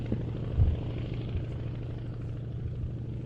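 A Beechcraft Staggerwing biplane with retractable main undercarriage drones steadily at an airshow, its engine a constant low hum at moderate distance, with no voices over it.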